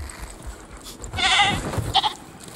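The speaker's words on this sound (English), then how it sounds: "They're attacking a goat." A goat in a dinosaur park video game bleats in distress while small compsognathus dinosaurs attack it, a short sharp cry among soft rustling and thuds.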